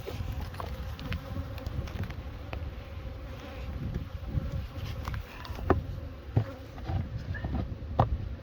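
Bees swarm and buzz around an opened beehive being inspected outdoors on a windy day, a dense continuous drone with occasional nearer passes and some wind noise, no talking.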